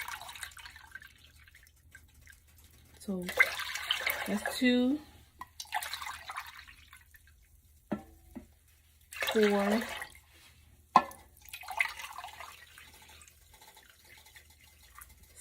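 Water poured from a container into a pot on the stove for Mexican albondigas soup, heard as two bursts of splashing pouring between stretches of talk.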